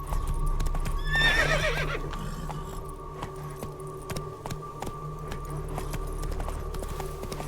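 Horse hooves clip-clop at a gallop in The Witcher 3, with a sharp whinny near the start, then steady rhythmic hoofbeats continue under a low in-game ambient hum.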